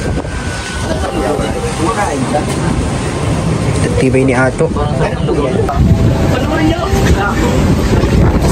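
Strong wind near the sea roars steadily into the microphone, loud and constant, with a person talking over it and traffic-like rumble beneath.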